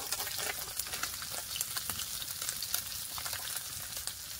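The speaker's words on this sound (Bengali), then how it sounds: "আরেক পাশ ভালো করে ভেজে নেবো।" Continuous crackling sizzle of murla fish frying in oil, dense and close, with no voices.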